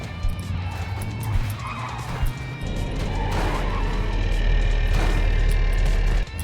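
Trucks in the Clustertruck game roaring and skidding, loud continuous engine rumble with tire squeals and clattering impacts, close and intense throughout.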